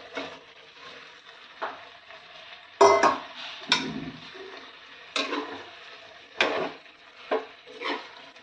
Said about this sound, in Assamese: এতিয়া মই ইয়াত দি দিম বইল কৰি দিয়া আলু আৰু কঁঠালখিনি